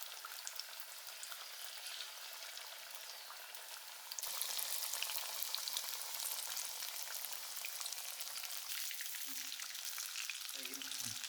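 Banana fritters (pazham pori) fry in a pan of hot oil, giving a continuous close sizzle that grows louder partway through, with a few soft stirring knocks near the end.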